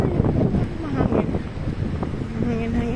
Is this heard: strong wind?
yes